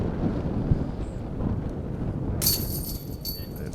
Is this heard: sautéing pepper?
no